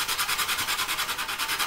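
Rhythmic back-and-forth strokes of sanding on the plastic of a 1/48 Academy SU-27UB Flanker model kit, a close, steady scratchy rasp repeating quickly and evenly.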